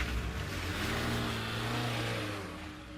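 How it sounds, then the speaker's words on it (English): An engine note swells as a car revs and pulls away, a steady loud drone with rising pitch lasting about three seconds and no talking over it. "started up his car, and sped off"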